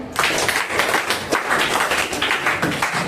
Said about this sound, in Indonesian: Beri tepuk tangan untuk kelompok ini.